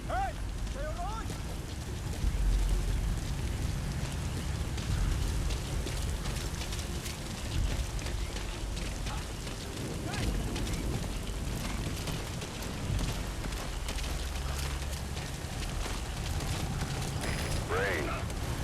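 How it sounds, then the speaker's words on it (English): Steady rainfall in the video game Metal Gear Solid V makes a dense, continuous hiss throughout, broken by faint clicks and a few distant sounds. "Sound of rainfall should help to mask your footsteps."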